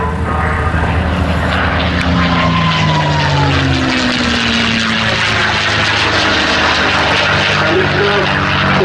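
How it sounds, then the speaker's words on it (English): A North American Mustang, a 1945 propeller fighter built at Inglewood, California, drones loudly and steadily throughout as its piston engine roars overhead at an airshow. An announcer speaks over the continuous engine noise. "This particular aircraft, built by North American Aviation at Inglewood in California, delivered to the United States Army Air Force in 1945."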